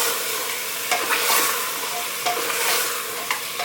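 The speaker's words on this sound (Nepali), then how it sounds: "मिडियम फ्लेममा मासुलाई भुट्यो भने चाहिँ मासुको पानी पनि एकदम राम्रोसँगले रिलिज हुन्छ।" Goat meat sizzles and fries steadily in a pan over medium flame, releasing its juices, with occasional scraping stirs of a spoon over the constant hiss.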